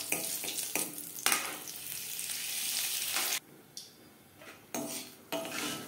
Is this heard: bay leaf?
yes